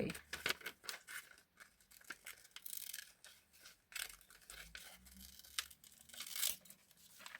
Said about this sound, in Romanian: O să tai cărțile astea.